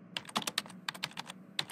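Rapid typing on a MacBook keyboard while entering a password: a close, dry run of irregular key clicks with brief pauses, no voices.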